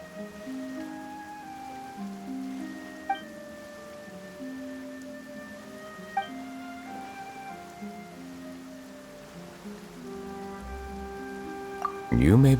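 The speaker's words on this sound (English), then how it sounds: "Why is it raining all of a sudden?" Steady rain in the video game Genshin Impact patters softly in the background beneath a calm musical score with occasional chimes, ending with a louder burst of sound.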